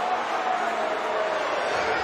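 Rugby league stadium crowd at an NRL match between Wests Tigers and Sharks, a broad continuous roar from a large distant mass of spectators holding steady throughout.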